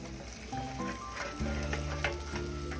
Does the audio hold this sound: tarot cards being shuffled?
no